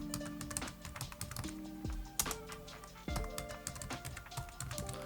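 Rapid keystrokes on a computer keyboard entering a long passphrase during a Linux disk-encryption setup, a continuous run of close, crisp clicks and taps with occasional heavier key presses.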